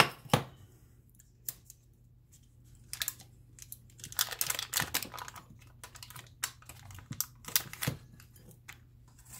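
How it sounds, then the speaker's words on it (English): Saran plastic wrap is handled at close range in a kitchen while breakfast sandwiches are made. Sharp crinkles, snaps and rustles come in scattered bursts, busiest in the middle, over a quiet low hum. "I have the saran wrap out."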